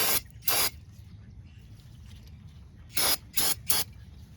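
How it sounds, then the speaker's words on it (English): Aerosol brake cleaner is sprayed onto a brake caliper bracket during a front brake job on a 2003-2008 Ford Focus, two short close hissing bursts followed by three more after a pause, loud and sharp against quiet background. "So we will go ahead and get our caliper bracket cleaned up so we don't have issues with that. So let's go ahead and get that sprayed."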